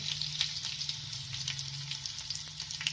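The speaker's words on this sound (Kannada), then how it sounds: "ಸಾಸಿವೆ ಹಾಕ್ತೀನಿ" Mustard seeds sizzle and crackle in hot oil for tempering a bitter gourd stir-fry. A steady close hiss runs throughout, with frequent small pops and no talking.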